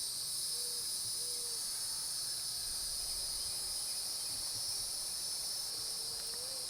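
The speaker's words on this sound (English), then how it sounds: "I don't know if you could hear the cicadas going." Cicadas drone in a mown summer yard at a mobile home property, a steady high buzzing wall of sound lasting throughout, with a few faint low tones far off and no talk.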